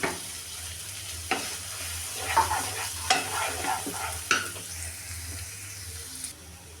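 Chopped onion, green chilli, ginger and carrot frying in a pan for red sauce pasta are stirred, so crisp scrapes and clatters keep cutting through a low, steady sizzle.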